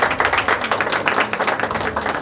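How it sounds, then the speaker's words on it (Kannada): An audience at a film release event claps for actress Sulakshari, a dense, steady patter of many hands clapping close by, with no talk over it. "ಈ ಸಂದರ್ಭದಲ್ಲಿ ನಟಿ ಸುಲಾಕ್ಷರಿ ಒಂದ್ಸರಿ ಚಪ್ಪಾಳೆ ಅಭಿನಂದನೆ ನಾವು ಸಲ್ಲಿಸಬೇಕು."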